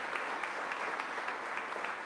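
An audience at a civic event with the New York governor and Capital Region leaders in Albany breaks into steady applause, a dense wash of clapping filling the whole moment with no speech over it.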